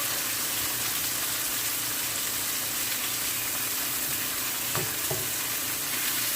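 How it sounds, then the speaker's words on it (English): Salmon frying in garlic butter over a lowered flame in a Jamaican-style kitchen, a steady dense sizzle throughout with a couple of faint clinks, no talking. "Turn your flame down. You want your salmon to cook."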